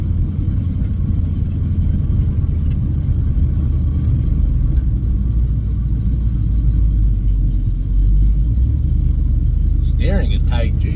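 A car is driven at speed with a steady low engine rumble and road noise throughout, rising slightly near the end, while someone talks over it.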